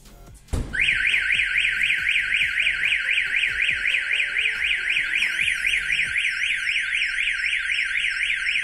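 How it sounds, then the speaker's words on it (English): A catalytic converter alarm fitted to a Toyota Prius sets off after a sharp knock, then wails loudly and continuously in a rapid rising-and-falling siren pattern, close and without any talk. "I've applied a force to the vehicle, you've seen the alarm trigger"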